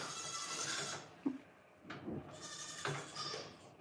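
Nigerian Dwarf dairy goats bleat in several drawn-out, wavering calls, fairly close and moderately loud, with short quiet gaps between them.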